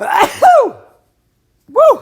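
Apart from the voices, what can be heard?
sneeze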